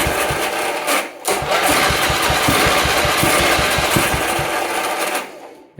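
A John Deere 110 lawn tractor with an 8hp engine fires and runs, a loud, fast-pulsing engine chatter that holds steady for about five seconds after a brief dip, then cuts out near the end.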